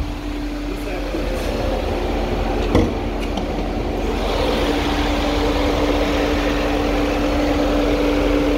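A 2012 Mercedes CLS 63 with a rebuilt engine idles steadily nearby, a low continuous hum with a faint tonal drone and one brief knock partway through.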